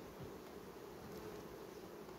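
A dense, steady drone of many honey bees buzzing at a hive fills the clip, soft but continuous, with no voices.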